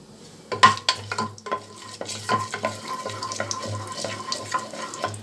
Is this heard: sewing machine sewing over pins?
no